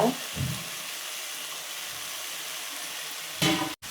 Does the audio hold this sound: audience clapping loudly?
no